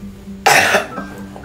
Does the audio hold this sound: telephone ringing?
no